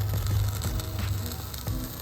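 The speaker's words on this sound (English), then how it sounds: "You can hear the sizzle" A soft, crackling sizzle of peach crumble cooking in a GoSun Fusion hybrid solar oven, steady and close, with faint low hum underneath and no talking.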